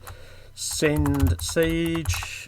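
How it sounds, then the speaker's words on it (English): Rapid typing on a computer keyboard clatters in the background while someone talks over it during a War of Nova game session, the keys tapping quickly and faintly beneath his voice. "excuse the noise of the typing in the background"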